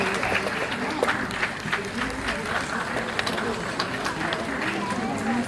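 An audience applauds at a school prize distribution at Father Agnel School, Noida: a continuous bed of crowd clapping with scattered sharper claps and some voices mixed in.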